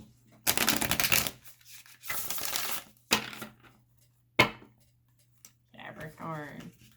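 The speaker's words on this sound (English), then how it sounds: "Oh, gotta shuffle these giant cards." Giant tarot cards being shuffled in several loud, papery riffling bursts, with a faint steady hum underneath and a short voice at the end.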